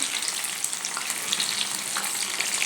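Corn kernels fry in hot oil with a dense, continuous hiss and crackle, the bright bubbling sizzle holding steady and close while a slotted spoon separates them.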